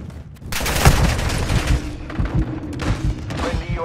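Sustained gunfire in Call of Duty: Modern Warfare II, a dense, loud crackle of rapid shots and thuds mixed with explosions, running continuously throughout.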